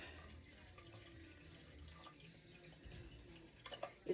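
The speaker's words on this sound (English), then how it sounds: "I'm just filling this up with water." Water trickles and drips as a Hydropod indoor garden is filled, a faint steady pour that ends in a few louder splashes and drips close by.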